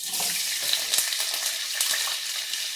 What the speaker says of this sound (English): I'm going to go ahead and start adding my fries